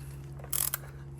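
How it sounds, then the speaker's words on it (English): A socket wrench ratchets on the oil filter or drain plug of a 2007 Mazda MPV 2.3 petrol automatic: a short quick burst of close metallic clicks, then one more click, over a steady low hum. "Now we can use the socket."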